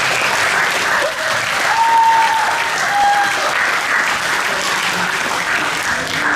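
A spring band concert audience claps steadily in a dense, even wash of applause that holds at the same level throughout, with a few faint voices underneath.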